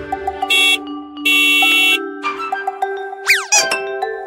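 Taxi horn honks in several short bursts of differing length, bright and electronic-sounding, mixed with cartoonish boings and dinging effects, loud and close with no voices.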